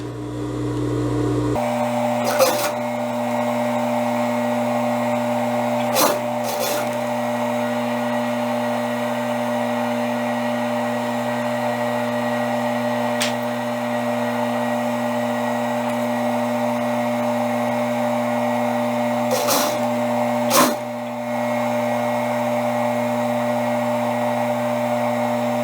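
A sewing machine stitches a ruffle onto the neckline of an eyelet cotton blouse, running as a steady mechanical hum for the whole stretch, broken by a few short clicks and pauses.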